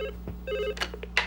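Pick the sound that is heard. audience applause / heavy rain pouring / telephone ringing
telephone ringing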